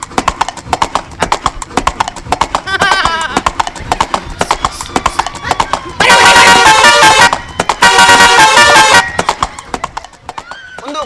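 A horse's hooves clip-clop in a steady rhythm amid a busy comedy scene, with voices and two loud blaring bursts, likely a horn, cutting in partway through.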